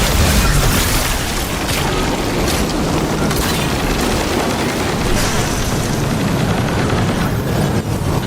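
Grenade launcher blasts and booming explosions in the video game Destiny 2 Lightfall, a dense, continuous roar of loud overlapping bursts and gunfire filling the whole stretch, with no voices.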